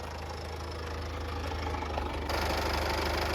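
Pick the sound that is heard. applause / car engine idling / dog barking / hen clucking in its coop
car engine idling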